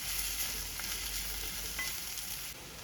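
Mango curry cooks in a pan with a constant, hissing sizzle of frying, close and continuous without any voices.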